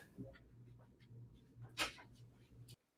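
A dog indoors gives a few short, muffled barks and whimpers at a distance, with a low steady hum underneath and one louder burst near the end.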